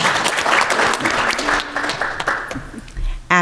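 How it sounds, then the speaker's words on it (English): An audience gives a brief round of applause for a panel discussing race, diversity and inequality among military families, loud at first and then tapering off into scattered clapping. "Can we give them a round of applause really quickly?"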